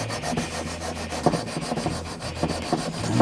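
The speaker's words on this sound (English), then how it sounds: "So a few more strokes and that glue will start to get sanded away" Sandpaper scrubs glue off cherry wood where it meets an ebony guitar fretboard during neck preparation on a custom electric guitar, a loud, close, rhythmic rasping in quick repeated strokes with no talking.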